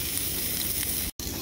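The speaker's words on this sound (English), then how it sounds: "It is maple syrup and bacon. It's a little too hot. My maple syrup is burning." Bacon and maple syrup sizzle and burn in a pan that is too hot, a dense, loud, continuous hiss and crackle that cuts out for a brief moment near the end and then resumes.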